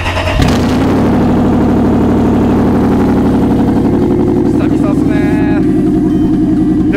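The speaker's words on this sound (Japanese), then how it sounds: "ちゃんと V8 の音が、 迫力がすごいっす。" A V8 engine in a Japanese VIP-style sedan starts and settles into a loud, deep, rumbling idle with a rough, throaty straight-pipe exhaust, close by.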